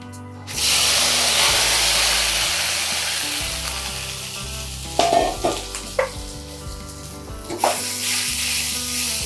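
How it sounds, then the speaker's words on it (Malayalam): Crumbled idli hits a hot pan and sizzles steadily for upma, a loud continuous frying hiss with a few sharp clatters of a spoon or spatula against the pan near the end. "ഇനി നമുക്ക് ഇഡലി തട്ടാം"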